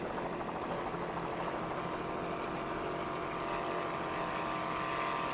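Motorboat engines at a 1993 powerboat race with spectator boats nearby, a continuous steady droning roar that holds at an even level throughout without pauses.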